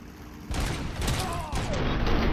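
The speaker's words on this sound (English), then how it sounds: "I want to shoot the gas tank at that thing." Gunfire aimed at a gas tank in the video game RoboCop: Rogue City, a dense burst of shots that kicks in abruptly and continues steadily, loud and sharp with busy game effects behind it.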